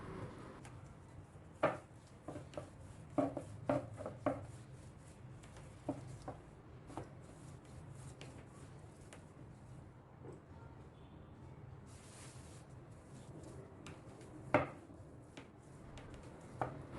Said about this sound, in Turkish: hamurun üzerine de un serperek oklava yardımıyla yuvarlak bir şekilde açıyorum